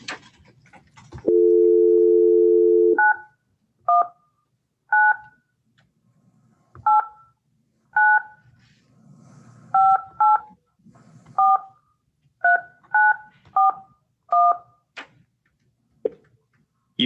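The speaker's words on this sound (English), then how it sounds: "I'm going to try to call the number they've listed for counsel" A steady dial tone holds for about two seconds, then a run of about fifteen touch-tone keypresses follows as a phone number is dialed, each beep short and clear with uneven gaps between them.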